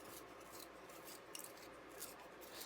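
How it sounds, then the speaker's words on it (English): A soft 7B graphite pencil is sharpened, giving a faint, continuous dry scraping and rasping, close but quiet. "Let me go ahead and sharpen it real quick"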